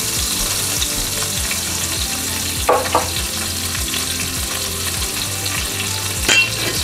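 Pork tenderloin medallions sizzle loudly and steadily in a hot pan, with a couple of brief scraping stirs cutting through the continuous frying hiss.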